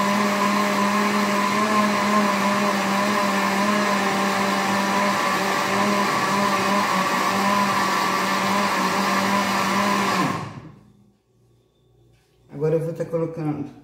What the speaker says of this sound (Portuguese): Eu gosto de tá dando essa batida na açúcar, com óleo e os ovos, pra ficar